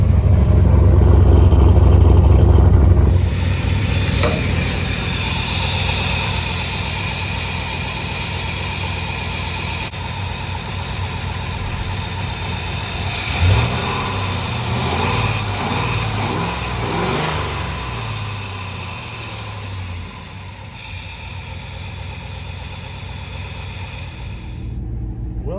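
An LS-swapped A-Team van engine cranks and catches, revving loudly before settling into a steady, even idle that rumbles on with small throttle blips, no voices heard.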